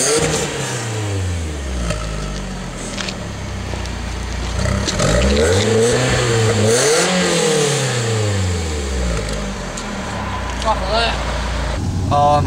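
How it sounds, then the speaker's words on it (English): A stock-exhaust four-cylinder 1995 BMW 318i E36 revs up and down in several rising and falling sweeps, loud and close, with a person talking over parts of it. "On the exhaust on it, it does not sound bad. This is stock exhaust."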